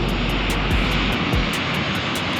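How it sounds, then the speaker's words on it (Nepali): A Turkish Airlines plane approaching to land in Malta, its engines giving a loud, steady roar up close, with no talk. "प्लेन आउँदैछ है त"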